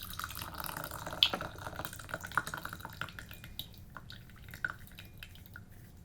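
Tea trickles and drips into a porcelain cup in a close, quiet ASMR setting, with a few sharp droplet plinks over a soft continuous pour.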